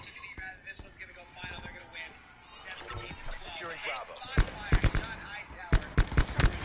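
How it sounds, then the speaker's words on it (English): Bursts of rapid gunfire in Call of Duty Black Ops 4 multiplayer, with sharp, loud, closely spaced shots clustering in the latter half after quieter scattered effects, under casual chatter between players. "I thought you were shooting me"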